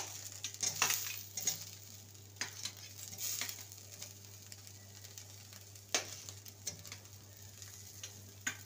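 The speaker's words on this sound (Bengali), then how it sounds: "এবার ভালো করে নেড়ে নেব।" Rice pilaf with fried vegetables, cashews, raisins and paneer is stirred in a pan, giving faint scraping and clinking strokes over a low sizzle and a steady hum, with no talking.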